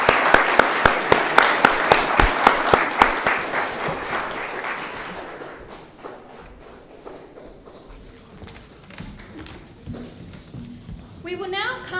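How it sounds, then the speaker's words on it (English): At a Stawell Secondary College presentation day, an audience claps in sharp, even rhythmic beats that soften into scattered applause and die away, then a voice begins speaking. "I'd just like to give him a round of applause for that."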